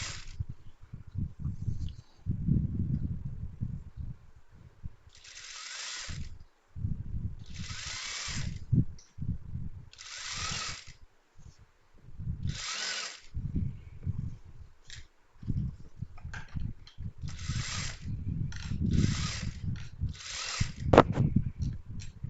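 A sewing machine stitches a seam on a skirt in repeated short, buzzing bursts separated by brief pauses, with occasional quiet talking between runs.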